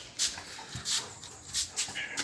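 A dog playing football with people gives soft whimpers and little yips in several short bursts spread across the moment, near and quiet, with no clear talking.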